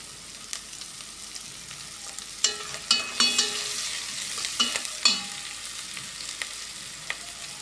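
Spices with garam masala, garlic paste and ginger paste fry in hot oil for a goat head curry, a steady sizzle broken by several sharp clanks and scrapes of a spoon stirring against the pot.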